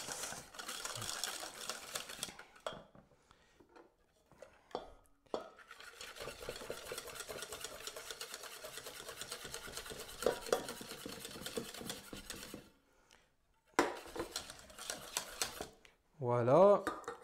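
Milk is stirred gently into pastry cream with a utensil in a pot, giving close, rhythmic scraping and clinking strokes in several bursts separated by brief quiet gaps.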